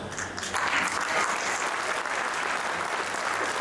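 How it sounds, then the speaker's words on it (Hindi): Audience applause at a third-anniversary company speech event, a steady wash of many hands clapping that swells slightly after the first half second and continues evenly throughout. "लेकिन तालियां मुझे ऐसी नहीं लग रही आगे बढ़ने में।"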